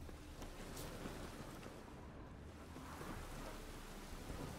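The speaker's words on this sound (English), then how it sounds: "The storm, damn it." Thunderstorm with steady heavy rain in The Witcher 3 video game, a dense continuous downpour wash with low thunder rumbling throughout, loud and even across the whole stretch, no talk.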